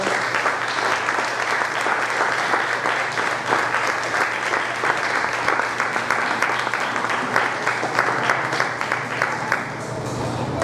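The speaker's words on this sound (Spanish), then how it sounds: "Bríndele un aplauso a Dios en esta hora." Sustained applause from a congregation during an evening church service, a dense steady clatter of many hands filling the whole stretch at even loudness with no pauses.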